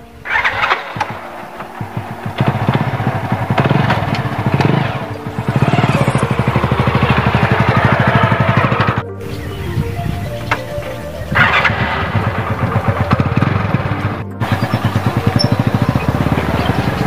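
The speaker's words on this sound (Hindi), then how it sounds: "खेत पे बाइक राइडिंग करते हुए मैं आपको बताता हूँ" A motorcycle ridden across a farm field, its engine loud and close as it revs, drops briefly and picks up again, with rattling and wind noise over a continuous run and no talk.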